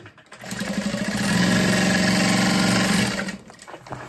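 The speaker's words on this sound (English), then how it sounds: "And then I'm sewing across the top." A sewing machine stitches across the top of a canvas messenger bag in one continuous close-up run, whirring up to a steady mechanical hum for a few seconds before slowing and stopping.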